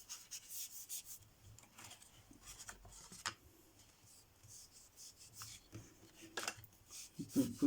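Cloth or paper wiping across a magnetic stencil plate used in card-making, giving soft, irregular rubbing strokes close by with a few light taps and clicks, quiet and without talk.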